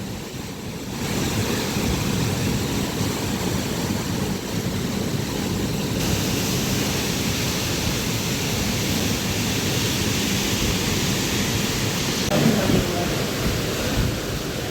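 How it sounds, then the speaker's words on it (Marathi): A sudden heavy rainstorm with strong wind roars as a dense, constant rush of noise for the whole stretch, close and loud, with slight surges near the end. "एवढं डेंजर वार, बापरे"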